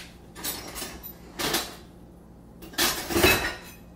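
A knife and a pot are handled in a home kitchen, producing three separate bursts of metallic clattering and scraping, each lasting under a second with short pauses between, close and fairly loud, with no talking.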